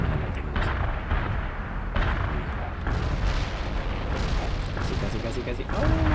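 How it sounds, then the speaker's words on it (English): An artillery barrage in the World in Conflict video game: repeated heavy booms and blasts rolling over one another, with voices talking over the shelling. "Artillery barrage inbound."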